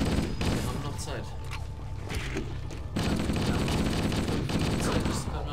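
Sustained rapid machine gun fire in the Halo video game, dense and loud with explosions and rumble mixed in, while players talk in German over the shooting.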